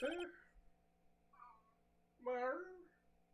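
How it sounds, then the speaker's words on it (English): A miserable, cranky cat meows twice, the second call longer and louder, with a short faint mew between, over a quiet background. "I don't know if his meows can be heard by my microphone"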